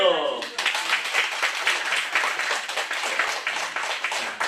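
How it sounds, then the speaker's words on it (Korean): An audience at a church revival meeting breaks into brisk, sustained clapping that fills the room, following a brief voice at the start. "자, 박수!"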